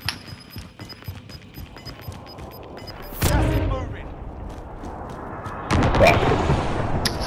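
Two heavy, loud gunshot blasts from Call of Duty: Modern Warfare ring out a few seconds apart, each leaving a rumbling tail, with fainter game clatter and a voice in between.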